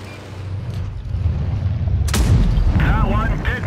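A tank gun fires in the World of Tanks Blitz video game, one loud booming shot midway through, followed by rumbling game noise with a voice talking over it.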